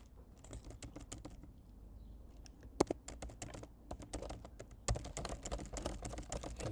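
Someone types a long password on a computer keyboard, a quiet, close run of irregular key clicks that starts sparse and becomes denser and faster, with a couple of sharper taps along the way.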